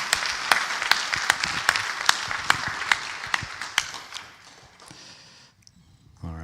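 A chapel congregation gives a round of applause, sharp individual claps ringing out at a steady pace for about four seconds before fading into quiet room tone.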